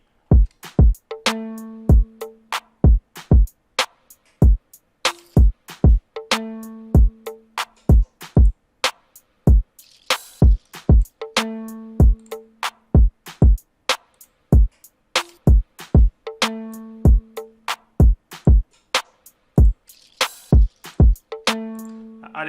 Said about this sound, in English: This is the main drum pattern for the beat.